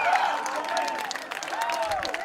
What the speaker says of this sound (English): The crowd giving him a standing ovation.